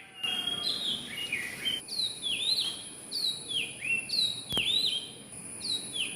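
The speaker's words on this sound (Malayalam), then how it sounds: "ഒരു കിളി എന്നും രാവിലെ വന്ന് എന്നോട് ഗുഡ് മോർണിംഗ് പറയും ആളുടെ സംഗീതം ഒന്ന് കേട്ടു നോക്കൂട്ടാ" A songbird sings in the morning, repeating short bright whistled phrases in a steady rhythm, close by and clear with nothing else in the background.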